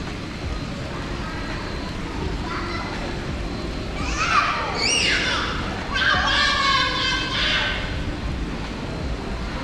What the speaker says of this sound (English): how about some kids outside the lounge screaming at some koi fish?